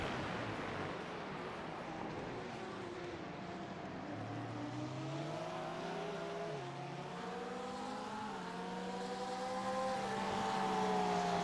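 Race cars including a Porsche circling at Circuit of the Americas, a steady distant engine drone with rising and shifting whines as cars accelerate and pass, heard without talk.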